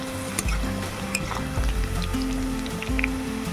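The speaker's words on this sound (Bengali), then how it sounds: "লাল লাল করে ভাজা করে নেব পেঁয়াজ কুচিটা।" Chopped onion with bay leaf frying in oil in a wok, a steady loud sizzle with crackling bursts and occasional stirring scrapes, close up and with no talking.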